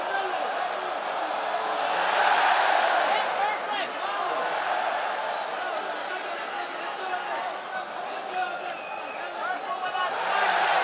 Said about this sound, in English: The Coca-Cola Arena crowd loving the work from Usman Nurmagomedov.